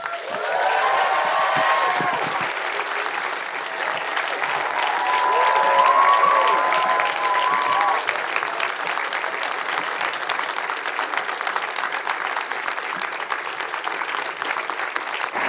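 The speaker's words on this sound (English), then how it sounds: "please keep that applause going for Mr. Tom Cruise" Theatre audience applauding Tom Cruise at a film event, sustained full-room clapping with some cheers and whoops early on, continuous and even throughout.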